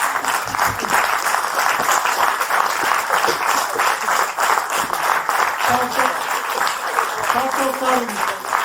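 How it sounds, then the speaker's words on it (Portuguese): An audience applauds collaborators at a theatre or stage event, dense sustained clapping filling the whole stretch, with a voice faintly talking under it toward the end. "eu pedi uma salva de palmas para todos eles"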